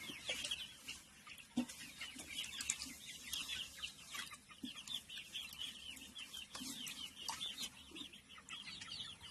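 Ten-day-old Kuroiler chicks cheep and cluck in a dense, overlapping chorus of short high peeps, fairly faint but continuous, with occasional louder calls and light rustling.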